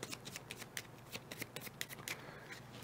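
A deck of playing cards is shuffled during a tabletop card game, producing rapid, crisp riffling and flicking bursts in quick succession, close and fairly quiet, with no voices.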